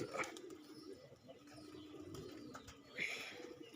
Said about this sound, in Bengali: টিনের উপরে যেগুলা কবুতর দেখতেছেন এগুলা সবই হচ্ছে আপনার বোনালো কবুতর